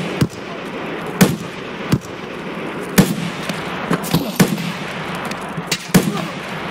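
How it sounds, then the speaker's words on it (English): Suppressed gunfire in the shooter game Escape from Tarkov: about eight or nine muffled, sharp pops at irregular intervals, some in quick pairs, heard at a distance over a steady low background hum. "Hearing a lot of shots over from where we came from. Suppressed."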